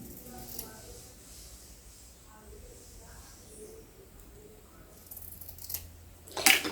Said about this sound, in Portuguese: Primeiro, eu vou acertar esse aqui na tesoura mesmo,